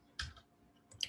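Computer mouse clicks, two faint, close clicks about three-quarters of a second apart in a quiet room.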